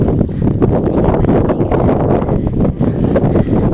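Cold wind on the coast at Leucate, France, buffets the microphone in a loud, continuous, gusty roar with no clear voices.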